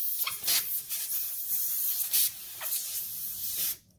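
Compressed medical gas hisses in bursts from a loose fitting on Amico med gas equipment as it is threaded finger tight, a close spray-like sound that stops abruptly when the fitting tightens.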